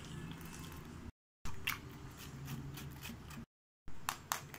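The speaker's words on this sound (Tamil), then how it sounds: "நான் வந்து இதை வடிகட்டி எடுத்துக்கிறேன்" Blended watermelon juice strained through a strainer, with wet squishing and dripping sounds close by, broken by two short gaps of silence and a few sharper splashy bursts toward the end.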